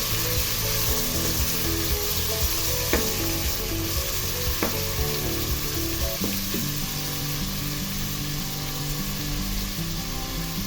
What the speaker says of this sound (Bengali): চিকেনটা ভেজে নেব আমি।